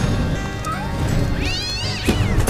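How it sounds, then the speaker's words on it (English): A cat meows repeatedly in a cutscene of the American McGee's Alice video game, loud and close with rising and falling cries over background game sound. "Oh, there's a cat."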